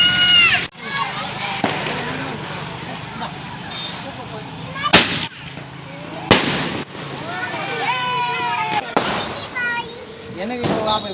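Diwali firecrackers during a family celebration at night, with several sharp, loud bangs at irregular intervals and crackling in between. People, including children, talk and shout throughout.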